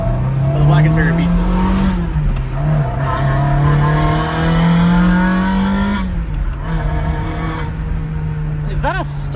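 A Ferrari 360 Modena with a stock exhaust holds a loud, steady engine drone whose pitch climbs, dips and climbs again, with a sharp rising burst near the end, while people talk over it.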